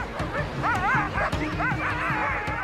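Sled dogs barking, yipping and whining excitedly in a cold outdoor polar setting, a dense overlapping chorus of howl-like yelps and short barks from several animals close by, continuous throughout.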